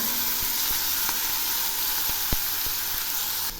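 Ghee, two green chillies and drained rice frying in a pan for prawn pulao, a steady close sizzle and hiss with a few soft stirring taps, no voices.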